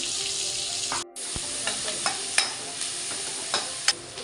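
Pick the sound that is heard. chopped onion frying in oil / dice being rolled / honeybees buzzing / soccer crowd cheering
chopped onion frying in oil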